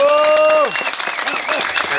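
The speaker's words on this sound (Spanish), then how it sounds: "pido un fuerte aplauso" An audience applauds a team in a dense burst of clapping that follows a voice. The clapping runs under fading speech and stays fairly loud throughout.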